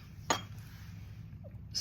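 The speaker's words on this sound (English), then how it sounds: "These are glass bottles," Glass bottles of sparkling and still mineral water clink together, one sharp bright tap followed by a fainter knock near the end, with quiet room background between.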